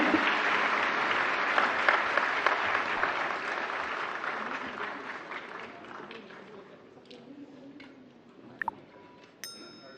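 An audience at a National Awards ceremony for the empowerment of persons with disabilities applauds an award winner, a broad wash of clapping that gradually thins and fades, with a few scattered clinks near the end.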